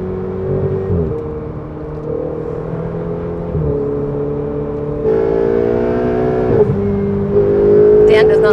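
Ferrari 488 engine accelerating as the driver goes on and off the power, a loud close-up roar whose revs climb, drop and surge again in uneven steps, with a voice talking over it.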